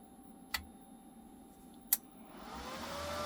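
An ATOM I-250D welding inverter after repair: two sharp clicks from the switch, then the cooling fan spins up into a rising, steady whir that grows louder toward the end.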